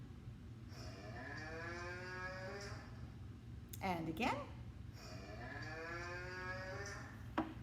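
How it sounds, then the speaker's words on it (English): A cow moos in two long, drawn-out calls, loud and close, separated by a brief spoken phrase from a narrator. "Did you guess a cow?"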